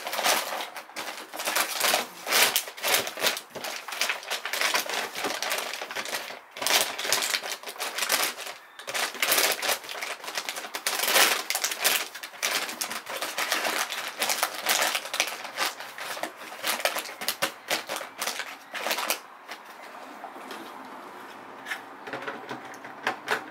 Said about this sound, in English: As you guys can hear, it's clicking in place, making that nice tight seal.